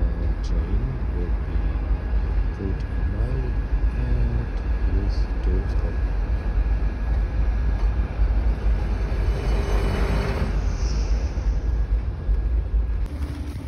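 A train near Luga gives a steady, continuous rumble with faint rattling throughout, heard up close.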